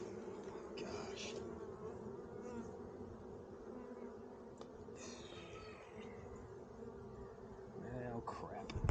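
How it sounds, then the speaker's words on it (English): Bees from an opened beehive buzz continuously in a dense, close hum, with individual insects passing near and flying off during a beekeeping inspection. "You see we got a bunch of bees down here, too."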